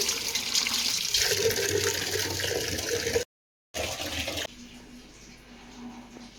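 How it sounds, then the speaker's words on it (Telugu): Water gushes steadily from a tap into a vessel for cooking a festival offering, cuts out briefly, then resumes more quietly with a lower, hollow filling tone. "బోనం వండడానికైతే వాటర్ అయితే పడుతున్నాను పూజ కోసం"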